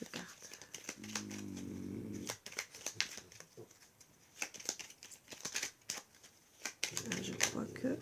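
Tarot cards are shuffled and drawn with crisp riffling and soft card slaps while someone talks throughout.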